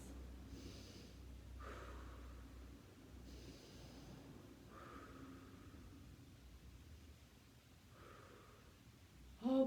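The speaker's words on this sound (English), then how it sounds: "We're going to do 3 breaths." Slow breaths taken while holding a yoga squat, roughly three soft airy inhales and exhales spaced a few seconds apart, close and quiet with light hiss in between.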